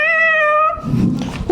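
A house cat named Oyen gives one clear, drawn-out meow, followed by soft rustling and handling noise close by.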